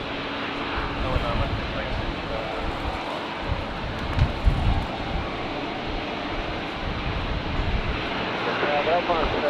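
Jetstar Airbus A321neo taking off from runway 19 left at windy Brisbane Airport, bound for Melbourne: a loud, sustained engine roar with gusty wind buffeting and brief thumps midway.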